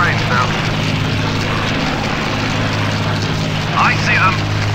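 Droning bomber aircraft engines roar steadily throughout a Battle of Britain flight combat game, with voices talking over the constant engine hum.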